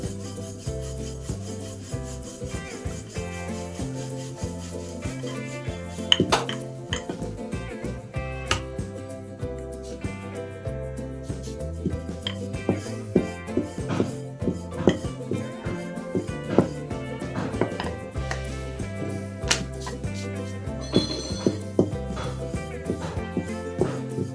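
A wooden rolling pin works chapati dough on a board in repeated rhythmic rubbing strokes, soft and close, with music playing steadily underneath.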